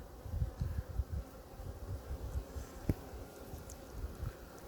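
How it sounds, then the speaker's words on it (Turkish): Honey bees loading pollen onto a hive frame give a soft, continuous buzzing hum. Scattered light rustles and knocks sound close by, and no one talks. "Arı buraya polen yüklüyor."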